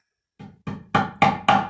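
Steel frets being hammered into a bass guitar fretboard, working from the middle toward the edges: five sharp, evenly spaced blows, each louder and brighter than the last, close and alone with no talk.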